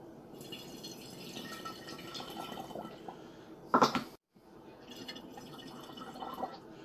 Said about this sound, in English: what I'm going to do is I'm going to put this into each bottle equally.